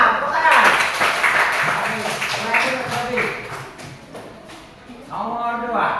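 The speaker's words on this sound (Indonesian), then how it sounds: "Tepuk tangan." A classroom full of people claps for a few seconds, a dense patter of applause mixed with children's voices and chatter.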